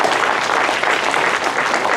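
An audience at a county Republican primary debate applauds its candidates, a dense and steady wash of clapping held at an even level throughout, with no voices rising above it.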